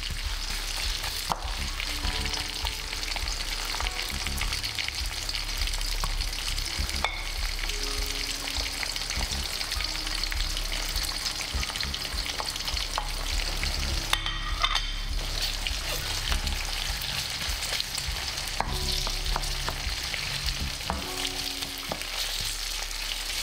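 Onion, ginger and garlic fry in a pan with a dense, even sizzle that runs throughout, broken by occasional stirring scrapes and a brief louder burst of crackle midway.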